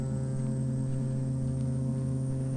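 Single turboprop engine of a Carenado C208B Caravan in a flight simulator, a steady loud droning hum with strong tonal harmonics, continuous and unbroken with power being added on approach.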